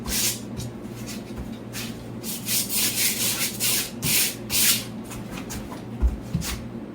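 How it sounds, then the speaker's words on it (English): Rhythmic back-and-forth strokes of sandpaper rasp against a cedar countertop, hand sanding close up, roughing up the surface in repeated bursts with short pauses. "I'll just be doing hand sanding."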